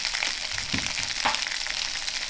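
Sausages fry in olive oil in a pan on turned-down heat, a steady broadband sizzle with a few soft bumps of stirring or shifting in the pan, close and even throughout with no talk.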